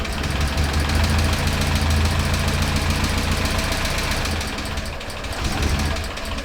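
A Morris Minor Traveller engine idling nearby, a loud, steady, rough mechanical chug with a knocking pulse that holds throughout, dipping slightly in level near the end.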